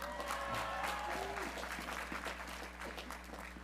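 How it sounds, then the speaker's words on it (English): A commencement audience at SUNY Cobleskill applauds steadily, a dense wash of clapping that stays fairly even and moderately distant throughout, with a faint voice and low hum underneath. "Yes, applaud, please."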